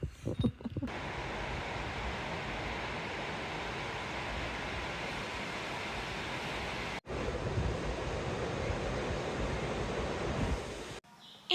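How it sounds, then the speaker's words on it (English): Ocean surf rolls steadily onto a beach on a morning, a continuous broad wash of breaking waves with some wind noise, with no voices. "it's just so nice to wake up to the sound of the beach"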